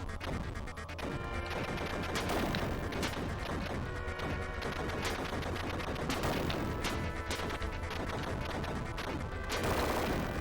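Dense rapid gunfire and crashing explosions fill the Target Earth video game action, a loud continuous barrage of shots with heavy booming impacts throughout.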